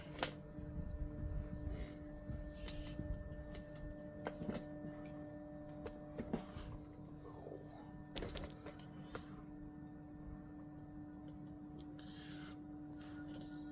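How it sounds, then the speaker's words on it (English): A Prusa XL 3D printer runs its Z-axis travel, a faint steady motor hum with a soft rubbing whir and occasional small ticks, alone and quiet. "It's doing the Z-axis right now, so it went all the way to the top. Now it's going to go all the way to the bottom."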